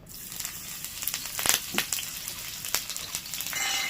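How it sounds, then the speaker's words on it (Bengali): Chopped green chillies dropped into fully heated oil, giving a steady crackling sizzle with sharp pops and spits scattered throughout, close and fairly loud. "তেলটা পুরোপুরি গরম হয়ে গেছে, এবার এর মধ্যে দিয়েছি কাঁচা লঙ্কা কুচি"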